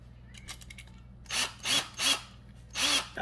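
Short bursts from a power drill during removal of an old GE dishwasher: four distinct whirring pulses, close and fairly loud, after a few faint clicks.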